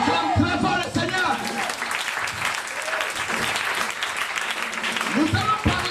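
A church congregation bursts into loud, sustained applause during a consecration service, with voices and cheers mixed into the clapping throughout.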